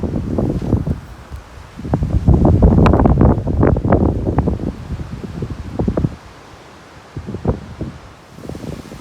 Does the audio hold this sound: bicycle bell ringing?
no